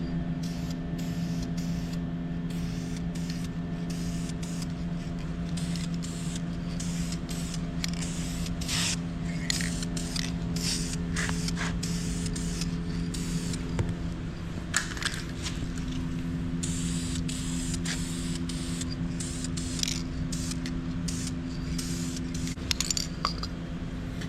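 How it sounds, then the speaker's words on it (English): Spray paint cans coating a Warn winch case during a restoration, a steady hiss running throughout over a low constant hum, with small clicks and knocks from handling the can and part. "So I'm gonna go ahead and get those cans and get this thing all painted up."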